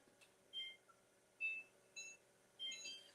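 A kitchen timer beeps in short electronic bursts, four clear chirps spaced about a second apart, quiet and alone.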